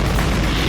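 A SpaceX Starship rocket lifts off in a dense, loud, broadband roar that fills the whole short moment without a break.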